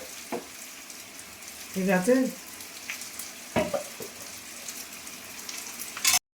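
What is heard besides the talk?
fritters frying in oil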